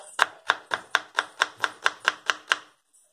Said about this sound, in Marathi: मी इथे कांदा उभा चिरून घेतलेला आहे